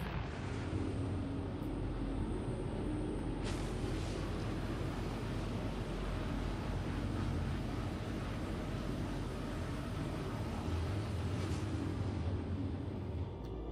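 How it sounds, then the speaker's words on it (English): Aegis Redeemer ship engines in the video game Star Citizen, a steady low rumbling roar that stays constant and fairly quiet, with faint higher hiss swelling briefly near the start and end. "Let's go ahead and get the engines online."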